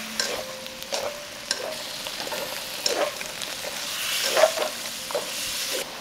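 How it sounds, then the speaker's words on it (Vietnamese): Shrimp and squid sizzle and hiss in a hot pan over high heat while a utensil stirs and scrapes intermittently, steady and close. "mình cho tôm và mực vào xào trên lửa lớn và mình xào nhanh tay nha"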